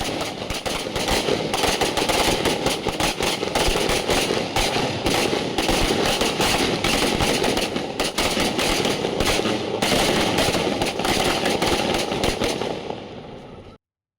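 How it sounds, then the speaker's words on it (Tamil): Firecrackers burst at a village celebration in Parvathipuram, a dense, loud, rapid crackling barrage of overlapping pops that runs nonstop for many seconds before cutting off abruptly. "பட்டாசு வெடித்து கொண்டாடிய பார்வதிபுரம் கிராம மக்கள்"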